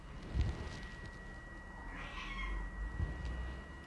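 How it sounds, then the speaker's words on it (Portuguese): A cat meows once in the background, a faint drawn-out cry rising and falling over a quiet room with a steady electrical hum and a few soft thumps. "Tem um gato miando ali."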